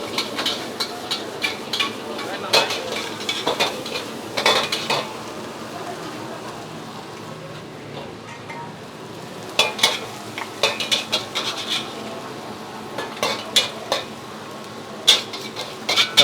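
Seafood fried rice with extra mustard greens and cabbage being stirred and fried in a pan, a steady sizzle beneath repeated bursts of metal spatula scraping and clanking against the pan.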